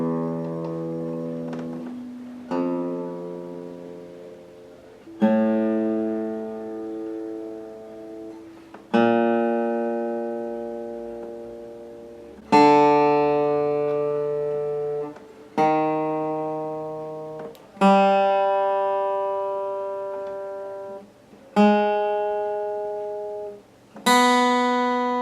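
A Martin 00-18 Geoff Muldaur model acoustic guitar sounds a series of single plucked strings, open and then fretted up the neck, each note ringing clearly and decaying before the next, about nine in slow succession.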